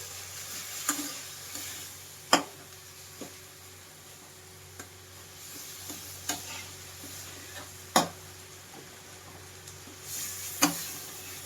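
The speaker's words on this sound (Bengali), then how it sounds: "তো আদা রসুন দেওয়া হয়ে গেছে এবার সুন্দর করে কষিয়ে নেওয়া হবে মশলাটাকে" Ginger-garlic spice masala sautéing in a pan at home, a soft steady sizzle broken by sharp scraping stirs of a spatula at irregular intervals, close and fairly quiet with no talking.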